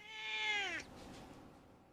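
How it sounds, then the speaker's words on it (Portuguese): A domestic cat gives a single clear, rising-falling meow lasting under a second, close and loud, followed by quiet room noise. "Uma das coisas que eles menos fazem é miar."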